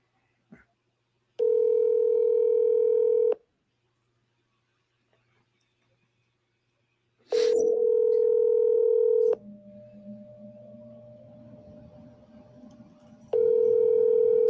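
A telephone call rings unanswered, with long steady ringback tones repeating in bursts between pauses, alongside faint background noise and low murmur.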